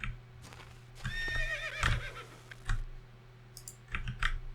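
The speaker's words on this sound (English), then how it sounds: "Ooh, a horse." A horse whinnies loudly in the Might and Magic VIII video game, a single rising-and-falling neigh over soft clip-clop hoof clicks and faint background game ambience.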